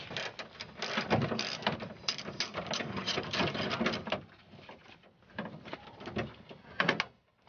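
A ratchet on an extension clicks in rapid bursts while it loosens a 10mm bolt on a Cadillac door. The ticking is close and fairly loud, with brief pauses between strokes and a quieter stretch midway.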